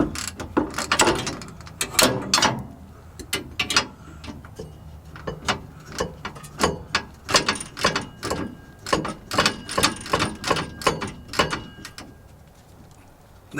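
A 3/8 ratchet loosens a bolt on a Volvo 245, giving a long run of close, sharp clicking strokes in an uneven rhythm, with no talking.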